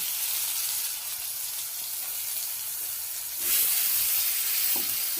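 Tomato with turmeric and salt sizzles steadily in a hot pan for a Bengali cauliflower dish, a close hissing fry that swells louder as it is stirred, with occasional light scrapes and no voices.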